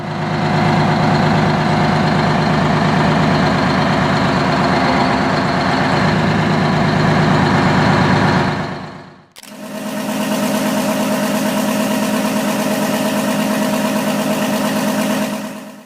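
A Detroit Diesel 12V71 two-stroke V12 diesel runs loudly and steadily, a dense rasping drone that cuts out briefly and then resumes at a similar pitch, close and overwhelming.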